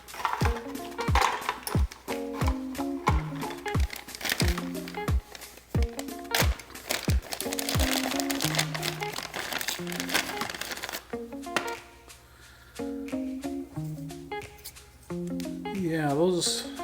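Plastic bags of RC10 kit parts are cut open and crinkled: a string of sharp clicks and rustles at a steady pace, with someone talking throughout.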